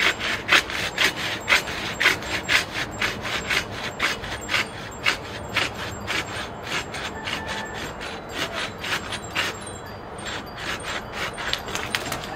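Handsaw cutting through a thick ficus benghalensis bonsai branch, rapid rhythmic back-and-forth rasping strokes, close and steady, slowing slightly near the end with no talking.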